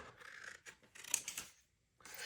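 Scissors cutting patterned paper for a junk journal folio, a few quiet close snips and slicing strokes over about two seconds, with a brief gap near the end.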